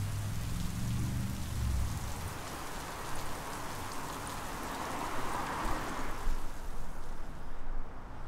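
Pouring rain drums steadily on a cedar shake shingle shed, a dense, even hiss of drops on wood that stays loud and continuous throughout, with a low rumble at the start.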